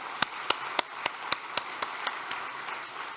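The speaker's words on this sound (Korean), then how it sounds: "이 모든 봉사자들을 위해서 우리 큰 감사의 박수를 보내주시기 바랍니다" At a year-end thanksgiving church service, sharp evenly spaced claps ring out roughly every quarter second over a softer wash of scattered clapping, moderately close and gradually weakening.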